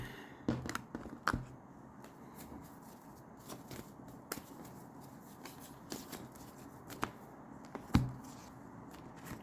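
Tarot cards being shuffled and drawn, soft riffling and papery slaps scattered across the quiet, with a few sharper taps and flicks as a card is laid down, close and faint.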